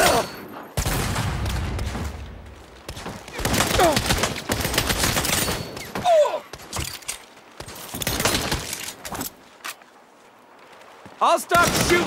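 Bursts of gunfire from the Saints Row video game, with broken volleys and single shots sounding close and loud, and a voice talking between them.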